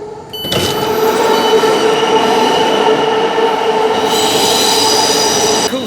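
A Thameslink mainline passenger train runs loudly through the London central core, wheels rumbling and squealing with a steady roar and a rising hiss toward the end, heard up close from inside with no voices.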